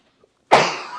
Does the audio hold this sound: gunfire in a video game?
no